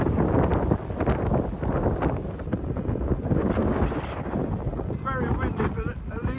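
Strong gusting wind buffets the microphone at a port in Calais, a constant rough roar under a person talking throughout.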